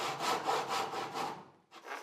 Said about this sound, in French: Le plus simple est de scier de biais les 2 côtés et ensuite de scier droit vers le bas.